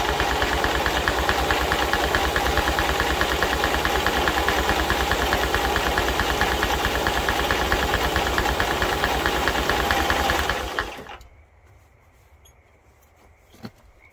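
The pony motor on a Caterpillar D2 5J crawler cranks for about ten seconds with a steady, rapid chugging rhythm, close and loud, without catching. It then stops abruptly, leaving near silence and one faint knock.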